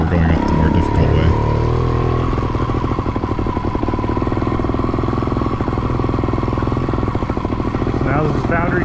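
A TRS Xtrack trials motorcycle climbing a forest trail in Gifford Pinchot National Forest, its engine loud and close with a rapid, even chugging pulse and a steady tone, accompanied by clattering from the trail.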